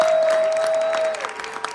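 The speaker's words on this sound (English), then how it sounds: "Big hand of applause for Patti." Audience clapping for a speaker at a pre-screening event, a dense burst of hands that fades toward scattered claps, with a steady tone running underneath.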